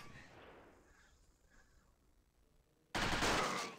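Rapid gunfire from Resident Evil 4's Separate Ways campaign: after a quiet stretch, a loud, dense burst of shots erupts near the end and stays sharp and close.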